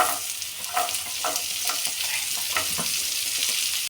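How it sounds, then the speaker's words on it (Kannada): Carrot pieces frying with garlic in a pan, a steady close sizzle broken by repeated scraping stirs of a spatula, with no one talking. "1 ಮಿನಿಟ್ವರೆಗೂ ಕ್ಯಾರೆಟ್ ಚೆನ್ನಾಗಿ ಫ್ರೈ ಆಗಬೇಕು."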